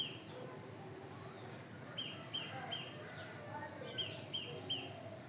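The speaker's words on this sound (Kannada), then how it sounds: "ನಿಮಗೆ ಪಕ್ಷಿಗಳ ಸೌಂಡ್ ಕೇಳಿಸ್ತಾ ಇರ್ಬೋದು" Small birds chirp and tweet in short repeated bursts in a morning home garden, quiet and somewhat distant over a steady low background hum.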